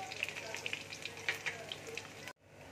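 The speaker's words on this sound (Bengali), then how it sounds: "তেল দেখো গরম হয়ে গেছে। এবার আমি রসুন কুচি দিয়ে দিচ্ছি।" Chopped garlic frying in hot oil for an aubergine curry gives a bright, crackling sizzle with scattered pops, close and steady, before cutting off abruptly near the end.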